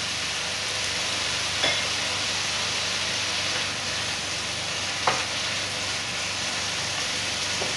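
Meat and black mushrooms for Chinese noodles frying in a pan, a dense continuous sizzle with two brief clinks from a utensil, no talking.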